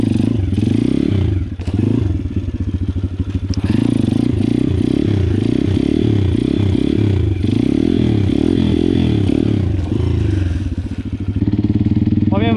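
A small Loncin 125cc motorcycle engine runs loud and close, revving and sputtering unevenly with rattling and clatter throughout.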